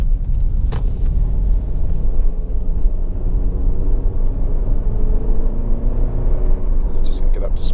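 A 2012 Honda CR-V 2.0 i-VTEC automatic accelerates, its engine rumbling steadily with a broad, low roar of road noise that holds throughout, with a brief rattle near the end.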